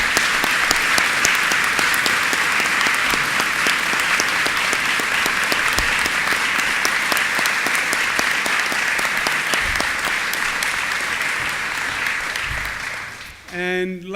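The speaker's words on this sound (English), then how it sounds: "we should all applaud today" Crowd at a public announcement event on Long Island coastal resiliency breaks into loud, sustained applause that carries on evenly for over ten seconds, then fades as a voice starts speaking at the very end.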